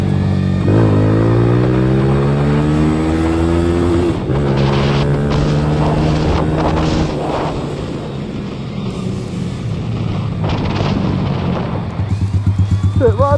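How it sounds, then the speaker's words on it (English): A Yamaha YBR125 motorcycle engine with a 150cc big-bore kit running at a low, uneven idle with a deep rumble and harmonic drone, partly masked by someone talking over it. "So it runs, idle's really low."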